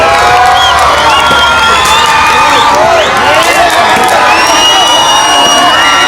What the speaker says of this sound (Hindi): एक बार जोरदार तालियां भाइयों।